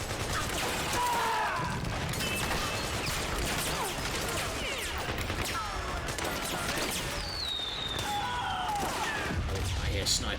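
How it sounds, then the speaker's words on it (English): Sniper shots and AK rifle fire echo in Metal Gear Solid 4 amid a continuous, dense battlefield din of distant gunfire, with several sharp cracks and whistling streaks over the steady clatter. "Oh, I hear snipers. That's a guy with an AK, okay."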